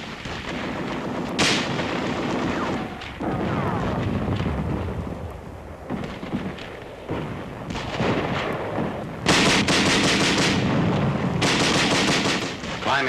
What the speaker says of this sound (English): Tanks and Bren guns giving supporting fire.